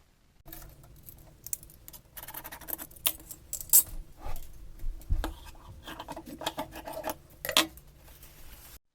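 Scissors cutting through sleeve lining fabric in a sewing setting, a series of close, crisp snips and rustling fabric handling, irregular bursts with short pauses between.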